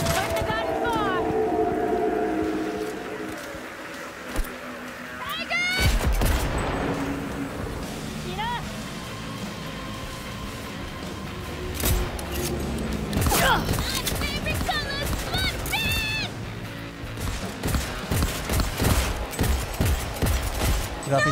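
A powerful weapon firing in Cyberpunk 2077, in loud bursts of gunfire and impacts that come and go across the stretch, mixed with game noise and what sounds like talking.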